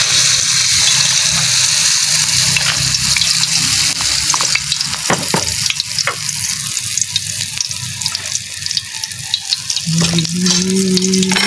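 Banana heart frying in hot oil, a loud continuous sizzle and crackle with occasional stirring clicks and scrapes, steady throughout with no talking.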